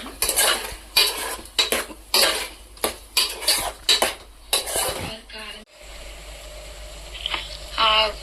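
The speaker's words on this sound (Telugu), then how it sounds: "అల్లం వెల్లుల్లి పేస్ట్ వేసాం ఫ్రెండ్స్. కొంచెం అటు ఇటు తిప్పుతున్నాము." A utensil scrapes and knocks against a pan in quick repeated strokes while ginger garlic paste is stirred, with a faint sizzle beneath and a brief metallic clatter before the scraping trails off.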